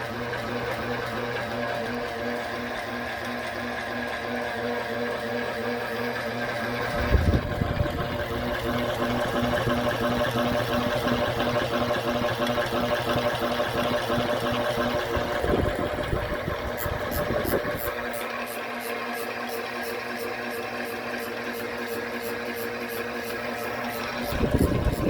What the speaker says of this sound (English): you can still hear the gears spinning in the background